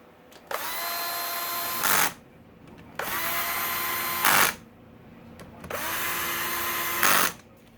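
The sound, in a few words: power tool tightening engine bolts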